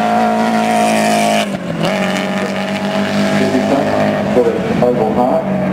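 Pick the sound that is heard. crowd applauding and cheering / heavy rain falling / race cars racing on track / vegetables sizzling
race cars racing on track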